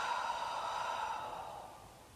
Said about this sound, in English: Exhale, blow out all that air.